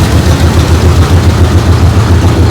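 A 1968 El Camino engine runs steadily at idle, loud and close, with a deep rumbling low throb and a constant roar of mechanical noise throughout, no voices.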